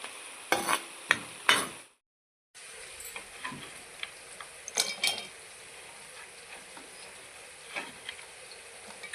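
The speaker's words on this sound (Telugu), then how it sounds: "మరి చిన్నగా మధ్య మధ్యలో కలుపుకుంటూ వేయించుకోవాలి." Bitter gourd frying in oil in a pan, a continuous sizzle broken by sharp scraping stirs, with a brief gap of silence before the frying resumes.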